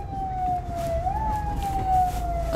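A distant siren holds a long, wavering tone, faint against a low rumble of background noise.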